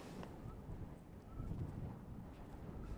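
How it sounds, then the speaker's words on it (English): Steady gusting wind buffets the microphone outdoors near a snowy mountain with a low rumble, continuous and fairly close, with no voices. "it's really windy here today"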